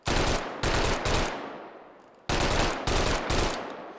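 Blizzwika submachine gun in the VR shooter H3VR, chambered in 9x19 with an MP40-style magazine, fires several loud full-auto bursts close by, each ringing out into a decaying echo, with a brief gap between groups.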